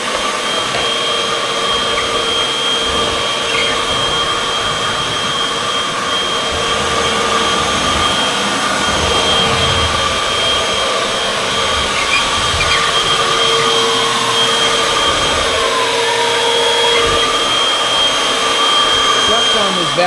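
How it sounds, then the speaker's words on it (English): A vacuum cleaner runs nonstop during a household vacuuming session, giving a loud, steady motor whine with a constant airy rush and no break. "That sound of this vacuum is incredible."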